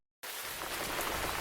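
Rain falling starts abruptly and continues as a dense, steady hiss of drops on a surface, close and even throughout, with no voices.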